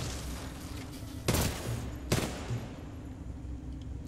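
Two short, loud bursts of automatic gunfire about a second apart from a hard-to-control gun in the shooter Titanfall 2, over a steady low game background hum with no talking.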